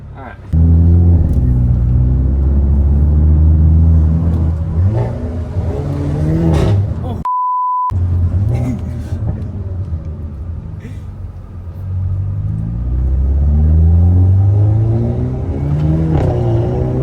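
An old sports car drives along a road, its engine rumbling and revving loud and close from inside the cabin, with brief gaps and people talking over it at times.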